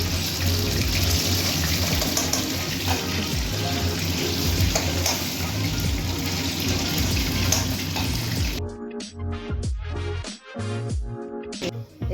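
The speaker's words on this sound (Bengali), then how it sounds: "হালকা করে একটুখানি লালচে করে ভেজে নেব পিসগুলোকে।" Pieces of food fry in oil in a wok, browning to golden, with a steady loud sizzle that thins into crackling spatters near the end.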